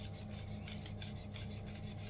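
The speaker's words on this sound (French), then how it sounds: "surtout on continue à bien remuer." Steady scraping and rubbing of a utensil stirring thickening milk in a saucepan, repeated in quick strokes, close and fairly quiet, with no talking.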